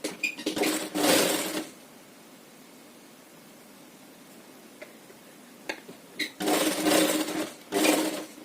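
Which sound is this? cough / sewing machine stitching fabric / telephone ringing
sewing machine stitching fabric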